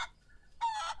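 Chickens in the farm game Barn Finder give two quick, close clucks separated by a short pause, with no other sound.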